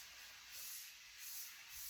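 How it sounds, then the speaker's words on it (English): Microban disinfectant spray hisses steadily from an aerosol can held close to a carpeted floor, a soft continuous spray lasting a couple of seconds with no talking. "I'm just going to spray it down also with some Microban"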